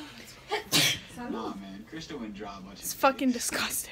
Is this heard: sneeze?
yes